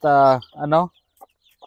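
A hen clucks over her brood of eight chicks on a small backyard poultry farm, one strong harmonic call followed by a second, then a few faint, brief peeps close by.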